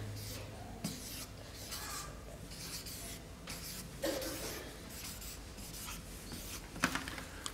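Pen or pencil writing by hand on paper, a faint continuous scratching with a few soft taps, heard at a quiet level in a room with no talk.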